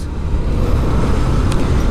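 A National Travels bus engine roars on the road between Natore and Bonpara, a steady loud low rumble with continuous traffic noise and no break throughout.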